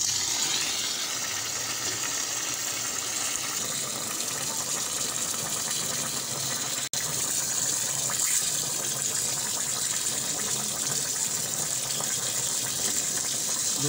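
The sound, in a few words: rinsing 10 kg of rice in water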